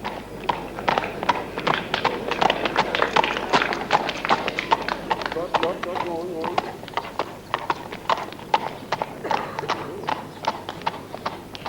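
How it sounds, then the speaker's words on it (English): Horse hooves beat in a fast, rhythmic clatter as the animal gallops across an eventing cross-country course, sounding close and steady throughout while a commentator speaks over them. "it is clear that something is wrong with her horse Volunteer."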